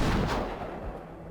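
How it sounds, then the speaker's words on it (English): Cannon fire in the Hakuoki: Kyoto Winds video game booms as a loud, heavy blast that rolls and echoes away over the next second, with no voices. "The sounds of cannon fire continued to echo in the background."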